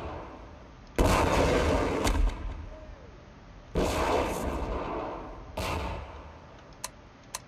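Missile launches in the shooter game Half-Life 2: Episode One, three loud whooshing blasts a few seconds apart, each fading into a rumbling tail, with a faint click near the end.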